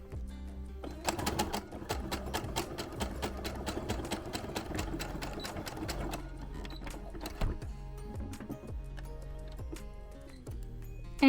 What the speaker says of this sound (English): We're going to put our presser foot back down and we're gonna sew along this edge again.